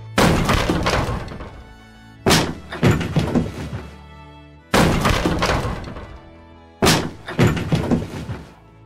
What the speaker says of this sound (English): I heard the kitchen door being kicked.